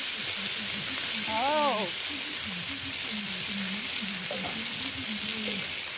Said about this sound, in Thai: กำลังผัดเห็ดนะคะใส่กุ้งนะคะผัดเห็ดน้ำมัน